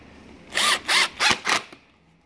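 Power drill driving screws into a parachute opener during cable replacement: four short, close, loud whirring bursts in quick succession, each rising in pitch, followed by a faint click and quiet.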